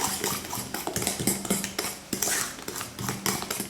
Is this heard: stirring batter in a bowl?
yes